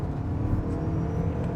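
A 2026 Toyota RAV4 Woodland plug-in hybrid SUV accelerates in hybrid mode, a steady low rumble and whir of engine and road noise heard from inside the cabin.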